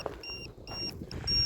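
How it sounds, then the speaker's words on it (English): An RC E-Flite V22 Osprey's battery voltage alarm gives repeated electronic beeps in short bursts, a high-pitched alarm pattern over high wind and motor noise. "That's my voltage alarm going there."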